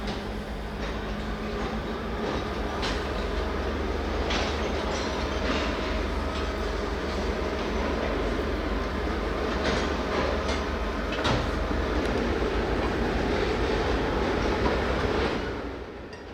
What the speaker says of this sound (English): the hump switcher then pulls ahead out of the yard and clear of control point 383